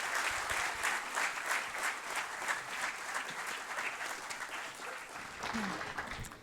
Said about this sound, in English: I think we should clap for the whole EDC team and Vishwapreneur again.